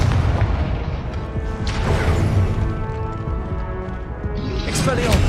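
A loud, booming blast from the Confringo explosion spell in the Hogwarts Legacy video game rolls out in a sustained crashing roar, with a second burst swelling near the end.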